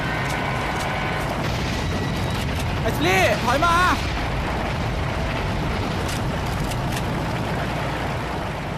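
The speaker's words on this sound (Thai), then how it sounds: "โอเครถระเบิดแล้ว" A car blows up in the VR game Resident Evil 4 with a loud, rumbling boom that lingers as noisy roar, while someone talks briefly over it.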